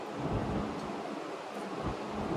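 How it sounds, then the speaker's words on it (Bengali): Rain falls in a steady broadband wash, driven by cold gusting wind with low rumbles buffeting the microphone, loud and close, no voices. "বৃষ্টি বৃষ্টি হচ্ছে, ঠান্ডা হাওয়াও দিচ্ছে"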